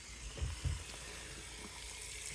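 Tap water running and splashing for a film development rinse, a faint steady flow with a couple of louder gurgling bursts near the start.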